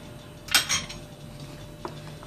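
A spoon knocks and scrapes against a bowl while stirring spinach crepe batter, with two clustered clinks near the start and a lighter tap later, close and otherwise quiet.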